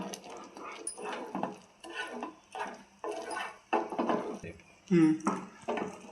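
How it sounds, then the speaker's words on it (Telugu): Ghee and syrup (paakam) being mixed in a pan for a roasted-gram sweet, scraping and clanking of a spoon against metal in uneven strokes, with a voice speaking over it. "ఒకసారి పాకం అంతా కలుపుకుందాము"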